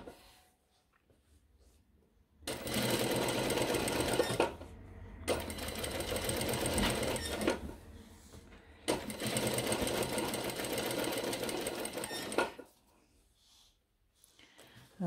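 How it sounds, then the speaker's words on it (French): A sewing machine topstitches a shirt collar in three long bursts of rapid, steady stitching separated by short pauses, close and clear, with a soft breath in the quiet gaps. "j'ai choisi de faire une surpiqûre, moi 3 mm pour la rabattre"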